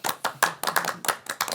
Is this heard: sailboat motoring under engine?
no